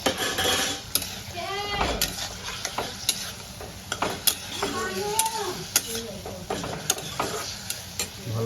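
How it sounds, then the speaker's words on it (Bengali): Fried prawns sautéed in a pan with a spice paste, a spatula scraping and clinking against the metal in quick irregular strokes over a steady close sizzle. "ভেজে রাখা চিংড়ি মাছটা দিয়ে কষাবো"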